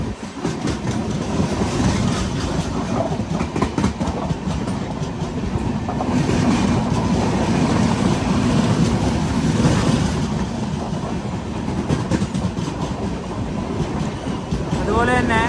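The Garib Rath Express rolls along the rails between Badarpur and New Haflong with a continuous rumble and clickety-clack of wheels, steady and loud throughout, with wind noise over it.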